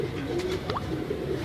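Pigeons of the short-beaked teddy breed cooing softly in a loft, low murmuring coos over a steady noisy background, with a faint higher chirp partway through.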